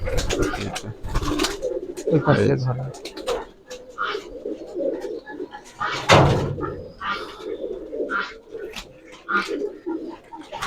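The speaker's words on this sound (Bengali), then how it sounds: "সব কবুতর এই যে চারিদিকে অসংখ্য কবুতর" Hundreds of Giribaz pigeons coo and flutter on a large farm in Rajshahi, their soft overlapping calls mixed with wing flaps and knocks, while people talk nearby.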